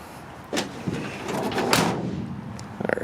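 A car door shuts with a firm, solid thunk, closed easily with one hand on a low-mileage, cream-puff condition car, followed by a few faint clicks and rattles near the end, with no talking.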